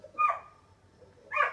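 A dog gives two short yelping barks about a second apart, fairly close, with quiet gaps and no talk.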